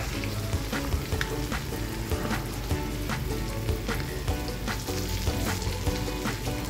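Eggplant omelette (tortang talong) frying in a generous amount of oil, a dense, constant, close crackling sizzle with fine spattering throughout and no speech.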